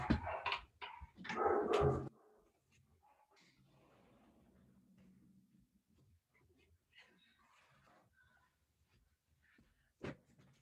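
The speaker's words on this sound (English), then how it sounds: "I can hear the dog barking" A few loud barks from a dog at the start, then quiet with faint rustling, and a sharp thud near the end.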